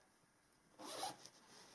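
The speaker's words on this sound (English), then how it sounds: "I'll undo the zip" A zip on a 1950s-style skirt is undone during sewing, a short quiet rasping zipper pull close by, preceded by a tiny click and followed by faint fabric handling.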